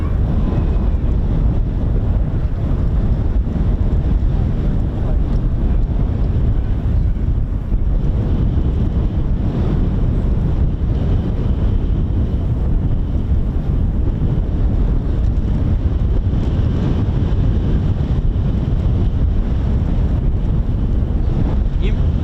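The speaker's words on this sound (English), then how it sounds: "every stream I do is just completely windy" Steady wind buffeting the microphone outdoors near RAF Coningsby, a constant low rumbling roar that fills the whole stretch without pause.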